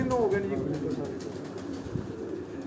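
Pigeons coo softly in the background on a rooftop while a person talks nearby.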